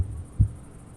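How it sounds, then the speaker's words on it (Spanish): A single muffled heartbeat thump, low and dull, landing once near the middle of a quiet stretch with a faint low hum underneath. "el corazón siguió latiendo con un sonido ahogado"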